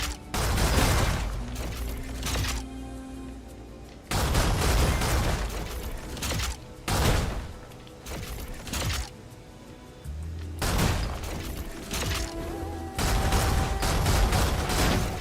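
Gunfire and heavy impacts from the video game Stellar Blade, fired at targets: loud bursts and thuds come in clusters, with brief quieter gaps between volleys, all over a steady game soundtrack and no talking.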